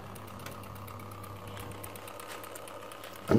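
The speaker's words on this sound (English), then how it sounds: "that's the divert valve actuator motor motoring down" The divert valve actuator motor in a Biasi M90E 28S boiler runs as a faint, steady mechanical whirr with a low hum, ending in a sudden louder bump.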